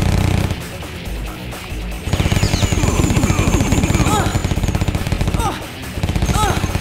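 Rapid machine gun fire in the Terminator Dawn of Fate video game, a dense loud rattle of sustained bursts with brief gaps, mixed with shouting voices and game effects.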